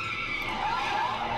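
Car tires skidding and squealing during a police chase in The Walking Dead, a loud, steady screech that holds for the whole moment.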